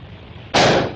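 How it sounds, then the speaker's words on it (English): A single sharp cartoon gunshot cracks out loud and close as a rope is shot in a Donald Duck cartoon, a sudden burst that fades quickly, with a quiet background before it. "Master shooting the rope right in the center of the middle, just like the Lone Ranger."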